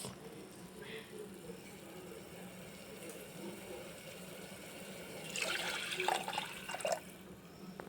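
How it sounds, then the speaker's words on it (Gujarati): Water splashes and pours into a pot toward the end, about two cups for kadhi khichdi, after a quiet stretch of low background hum. "હવે આપણે પાણી નાખશું બે કપ જેટલું આની અંદર હું પાણી નાખી દઈશ"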